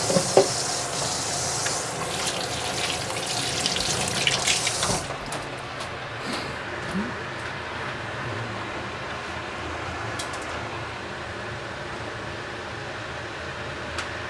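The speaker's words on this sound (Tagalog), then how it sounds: "Hugas tayo ng kamay." Hands washed under a running kitchen tap while cooking tilapia. A steady, close rush of water with hands splashing through it, loudest at first and then settling into a softer, even flow.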